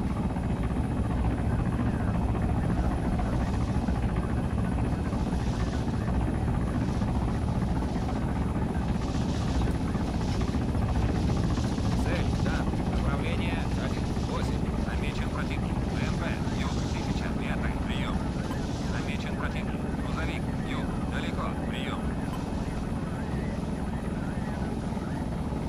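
An Mi-28N attack helicopter in the video game Arma 3 drones steadily with a loud, dense rotor and engine roar as it flies closer, holding a constant wash throughout.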